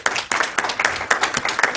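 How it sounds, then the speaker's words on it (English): A congregation at a Sunday service applauds a reverend, brief crisp clapping from a modest number of hands in a fairly close room, with no talk over it. "Let's give Reverend June a round of applause."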